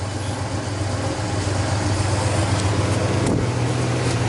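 A 1967 Pontiac Le Mans engine idles steadily just after startup, a close, even, low rumble with no talk.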